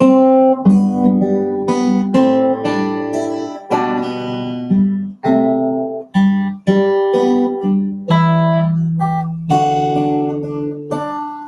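Acoustic guitar strumming chords in a steady rhythm, each strum ringing briefly before the next change, played up close with no voices.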